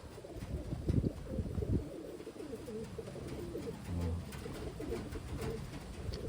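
Medium-to-large male Taiwanese pigeons coo in a steady stream of low, throaty calls, close by and heard alone with no talking.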